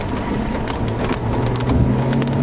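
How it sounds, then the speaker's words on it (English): Golf-ball-sized hail pours down during a spring storm near Ashton, Illinois, a steady loud clatter of dense impacts with a low rumble beneath. "There's literally golf balls out here right now. I'm seeing golf ball sized hail."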